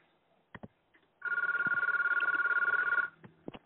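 Telephone ringing on an online call, a sustained electronic trill for about two seconds amid faint clicks and background sounds, clear and fairly close.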